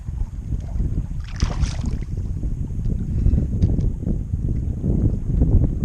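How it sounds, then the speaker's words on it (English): Strong wind buffets a small fishing boat out on a lake during pike fishing, a loud continuous rumble of gusts hitting the microphone with a brief splashy burst of water, close and unbroken throughout. "Whoa, that wind is pushing me like crazy."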